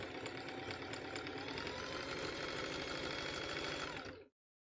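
A sewing machine runs a continuous zigzag stitch on big basket walls, a steady rapid mechanical chatter, close and loud, that stops abruptly near the end.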